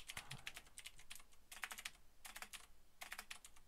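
Close, crisp keystrokes on a computer keyboard come in short uneven bursts separated by brief gaps, with no voices over them.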